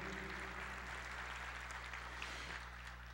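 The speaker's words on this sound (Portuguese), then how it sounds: "Pode aplaudir o Senhor." A church congregation applauds during a sermon, a faint, even spread of clapping sitting low beneath a steady electrical hum for about three seconds.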